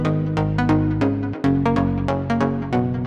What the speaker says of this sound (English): You can already hear some clipping and some distortion